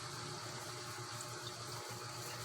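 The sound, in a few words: pouring coconut milk into pot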